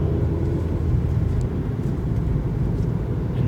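Cabin of a Ford Fiesta on a Mazda 2 platform while driving: steady low tire and road rumble with faint engine drone, continuous and even throughout, no voices.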